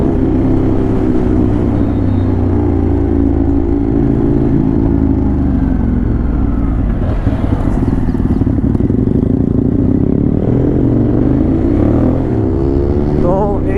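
A Ducati Monster 821 motorcycle engine runs loud and close, with a deep, steady throbbing drone and shifting revs throughout, including a brief rise in pitch around the middle.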